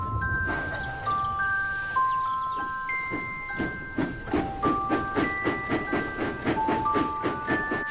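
A cartoon steam engine train chuffs along steadily with rhythmic puffs of steam, sustained whistle-like tones sounding over the top, growing from a hiss into a regular clickety beat.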